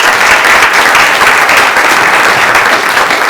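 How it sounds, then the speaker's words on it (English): Loud, dense applause from an audience at a workforce housing forum in Maine, honoring congressional office staff, a continuous roar of many hands clapping close and steady. "Please give them a round of applause."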